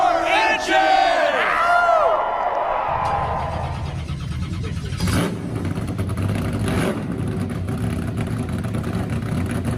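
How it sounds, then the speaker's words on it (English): Gen 6 NASCAR Cup Series V8 engines firing up together after a crowd yell, a deep rumbling idle swelling into revs that carries on steadily and loud. "The intense, the amazing, the beautiful sounds of V8 engines from a Gen 6 NASCAR Cup Series car."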